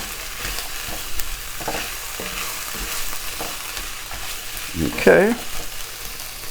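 Sofrito vegetables frying in a pan for osso buco, a steady close sizzle broken by scraping stirs, with a louder burst of crackling and scraping near the end; a voice speaks briefly.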